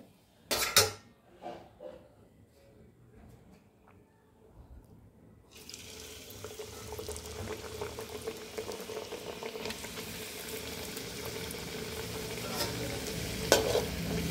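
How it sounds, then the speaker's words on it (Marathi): Puris deep-fried in hot oil for namkeen shengule: a few pan clanks first, then bubbling oil swells into a steady close sizzle and boil, with occasional stirring taps. "आता आपण दुसऱ्या पण पुऱ्या तळून घेऊत"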